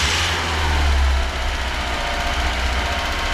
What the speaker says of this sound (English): It idles. It's a little choppy, a little misfire